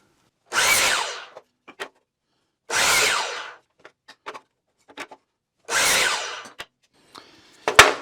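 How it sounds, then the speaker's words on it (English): Power tool cutting scrap wood into short rake blocks for a tiny house build, three separate loud cuts about two and a half seconds apart, close by, with small knocks and clatter between them. "I need to cut the rake blocks"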